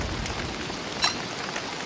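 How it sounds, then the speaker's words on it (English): Steady rainstorm in Don't Starve, a dense continuous hiss of falling rain with a faint drip standing out briefly in the middle, no speech. "The rain is making the fire die out a lot quicker."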